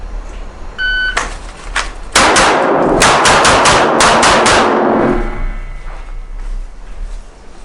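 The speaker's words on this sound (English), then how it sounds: "we're gonna work our way all the way around behind cover, working our shot pattern and making sure we're getting accurate shots" A handgun fires a rapid string of sharp shots during a timed defensive shooting drill working from retention to full presentation behind cover, loud and close, with a few single shots then a fast cluster before the ringing fades.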